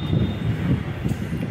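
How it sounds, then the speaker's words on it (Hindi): Metro train passing overhead, a rumbling rolling rush with rhythmic wheel clatter, fairly close and steady throughout. "मेरे ऊपर मेट्रो जाती है"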